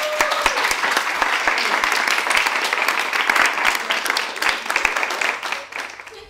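A studio audience at a Slovak TV show bursts into steady, dense applause that holds evenly for several seconds, close and loud, then tapers slightly at the very end.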